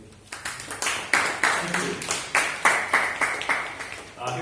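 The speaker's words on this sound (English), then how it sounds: "Huge round of applause for Toastmaster Nadeem." Toastmasters club meeting audience clapping for the newly introduced timer, a round of applause with distinct hand claps in several uneven bursts, fairly close and lively, with a murmur of voices mixed in.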